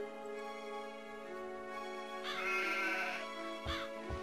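Sheep bleat in the video game Anno 1602 with a wavering, nasal call. It is sustained, then rises into a louder, quavering bleat, ending with a short extra cry over quiet background music.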